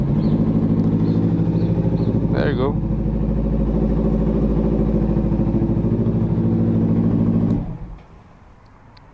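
A motorcycle engine idles steadily with a loud, even throbbing rumble for several seconds before cutting off abruptly near the end; someone speaks briefly over it.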